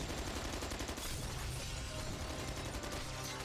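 Dense, continuous magnum gunfire and chaotic combat noise from the video game Resident Evil 6, loud and unbroken with overlapping shots and explosions throughout.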